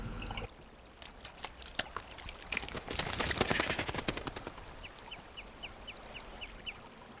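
Seagulls calling over the tidal mudflats of Ganghwa, squabbling with a person over discarded lugworms: sharp chirping cries at the start and end, with a rough burst of rustling noise in between and no voices.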